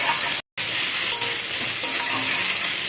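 Tomatoes with a little salt being stirred in a pan for a vegetarian jackfruit curry, a steady close sizzle with soft scraping, broken by a brief gap of silence near the start.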